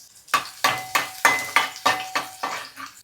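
Crushed garlic spluttering in hot oil in a kadhai while being stirred, with close, rhythmic bursts of sizzling and light scraping roughly every third of a second, no voices.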